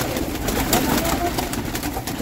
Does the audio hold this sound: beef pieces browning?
no